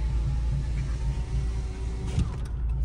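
Steady, close exhaust rumble from a 9th gen Honda Civic Si with a downpipe and aftermarket exhaust, a low droning tone that swells slightly near the end before a brief mechanical clunk.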